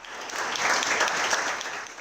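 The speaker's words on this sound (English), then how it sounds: "Let's give a round of applause to our GIA Manila program startups once again." Dense audience applause at a startup summit expo, a steady wash of many hands clapping together at close range with no voices over it.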